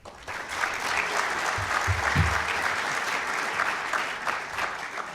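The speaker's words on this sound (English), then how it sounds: "Give them a round of applause." An audience applauds steadily for several seconds, a dense, sustained wash of clapping from a sizeable crowd.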